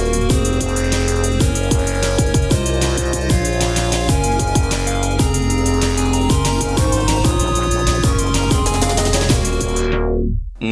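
A four-pad pattern on a Novation Circuit groovebox plays loud and steady: dense looping electronic drums and synth at a fast, roughly 190 bpm feel. It runs without a break before cutting off at the end.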